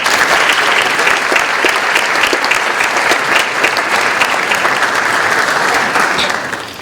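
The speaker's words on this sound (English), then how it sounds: "A round of applause, please," An audience at a school Veterans Day ceremony gives sustained applause. Dense clapping from many hands continues steadily for several seconds before tapering off at the end.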